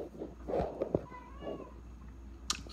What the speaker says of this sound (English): God, cats.